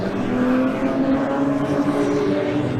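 A BMW M3 race car at Thruxton circuit drives on with a sustained, steady engine drone, loud and continuous throughout with no speech over it.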